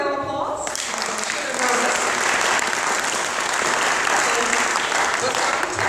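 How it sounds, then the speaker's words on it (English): An audience claps for a group of singers about to perform a song, the applause starting just after a voice and filling the whole stretch at a steady, fairly loud level. "So let's give them a round of applause."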